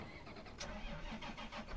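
A tractor engine in Farming Simulator 2015 cranks and catches, then settles into a steady mid-pitched running rumble, close and alone with no talk.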